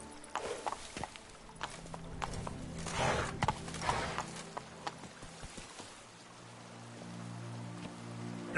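Roach the horse gallops through Witcher 3, hooves clip-clopping in a steady rhythm over a patter of rain, with a brief whinny-like burst midway before the hoofbeats thin out.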